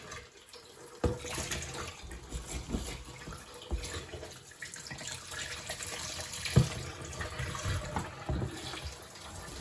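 Warm water runs from a kitchen tap into a sink, a soft continuous trickle and splash with small clunks of handling, fairly quiet and without speech.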